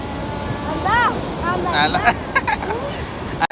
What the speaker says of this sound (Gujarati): આમ દરિયો હાવ થેર થઈ જાય પણ આમ પછી મોજા મટતા નથી